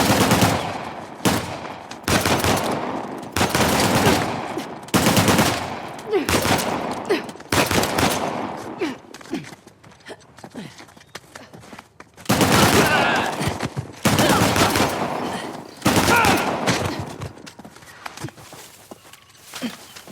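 Gunfire in the action game Uncharted: The Lost Legacy, with repeated loud bursts of automatic fire between short lulls, some footsteps in the quieter stretches, and a final heavy volley.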